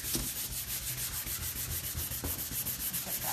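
Steady rhythmic rubbing as a waxed surface is buffed, a close, soft repeated scrubbing stroke that continues throughout without talk.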